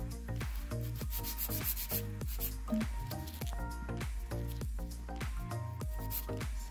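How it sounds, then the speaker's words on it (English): Coarse 100/180 grit nail file shaping a Polybuild nail extension, steady rapid back-and-forth rasping strokes close up, continuous and fairly loud. "I'm just going to use a 100 over 180 nail file"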